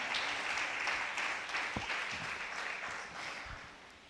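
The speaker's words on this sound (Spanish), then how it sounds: "Dale ese aplauso fuerte al Señor." A church congregation claps loudly during a Spanish-language service, a dense sustained round of applause with a few sharper individual claps, slowly fading toward the end.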